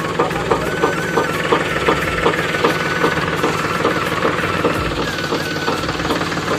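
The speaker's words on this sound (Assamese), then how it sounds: "এইফালে ট্ৰেক্টৰ ফাইনেলি আৰু" A tractor engine runs loud and close during soil-filling work, its steady idle carrying a rapid rhythmic knocking throughout, with no talk over it.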